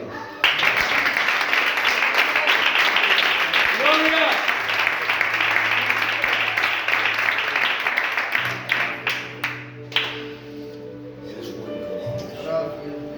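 Sustained applause from a large church congregation, steady and loud, then fading into scattered claps with some voices and a low tone underneath.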